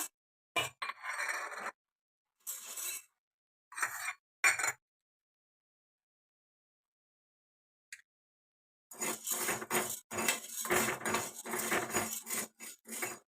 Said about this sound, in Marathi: आता आपण चना डाळ भाजूया